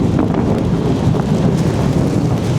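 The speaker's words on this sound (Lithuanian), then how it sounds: "Koks griaustinis stiprus eina savo." Thunder rumbles through a storm over a village in Thailand, a deep and continuous roll mixed with wind buffeting the microphone across the whole stretch, with no voices.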